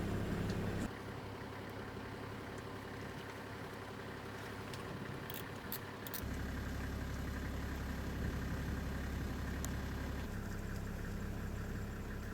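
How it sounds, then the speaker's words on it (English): A safari 4x4 on a game drive in Kenya sits with its engine idling, a steady low rumble that continues throughout, shifting slightly in pitch partway through, with faint background noise and no talk. "The driver kept the engine running in case we had to beat a hasty retreat."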